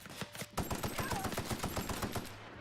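Rapid automatic gunfire from heavier ammunition in the video game The Outer Worlds, a dense rattling burst of close, loud shots repeating steadily for a few seconds.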